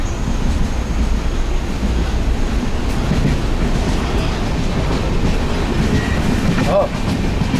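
An Indian sleeper train running through the countryside, with a steady loud rumble of wheels and carriage noise continuing throughout, plus faint rattles and a brief squeal near the end.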